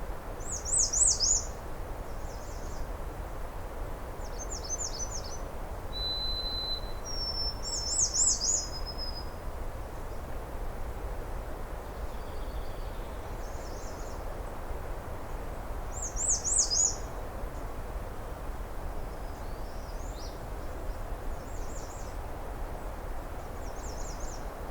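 Birdsong at a cold, sunny outdoor spot: a white-throated sparrow, house wren, American redstart and blue jays sound in repeated bright trills and whistled phrases, some near, some distant, over quiet ambient hush.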